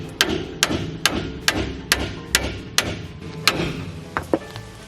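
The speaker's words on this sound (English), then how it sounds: "I might have to hammer it a bit." About a dozen sharp metallic hammer strikes on a front disc brake part of a vintage RV land in a fairly steady rhythm, close and loud, with brief pauses between blows.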